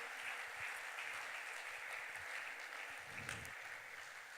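A church congregation applauds with steady, dense clapping and faint cheering, very quiet and distant, a brief swell near the end.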